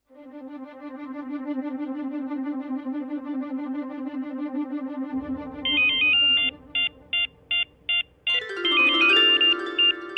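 An electronic ringtone for an incoming call rings loudly and repeatedly, starting as a steady melodic tone and then breaking into rapid chirping pulses before a brighter burst at the end, with no talking.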